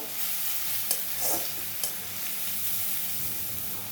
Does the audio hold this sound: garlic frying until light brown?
yes